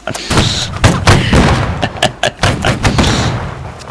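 A musket volley from a Napoleonic-era line company in Holdfast: Nations at War, loud repeated booming shots and thuds in quick succession, close and dense, with brief shouting mixed in.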